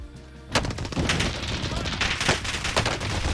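Sniper and other gunfire crack in a sudden loud burst of rapid shots in Call of Duty: Warzone Pacific, the firing dense and continuous after a brief quiet lead-in.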